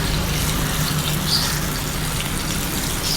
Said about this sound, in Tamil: இப்போ நம்ம மசாலா போட்டு வச்சுக்கிற மீனை ஒவ்வொன்றா இதில் எடுத்து விட்டுக்கலாம்